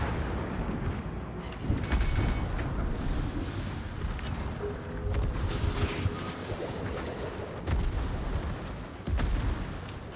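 Naval guns fire in a World of Warships–style battle involving the battleship Bismarck, heard as several heavy, distant booms over a constant rumble of sea and engine noise, with no talk.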